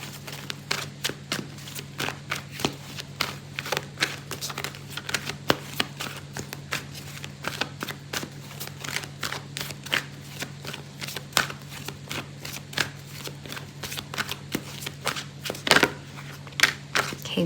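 Tarot cards being shuffled by hand, a continuous close riffle of soft rapid clicks and slaps over a low steady hum, lasting the whole stretch.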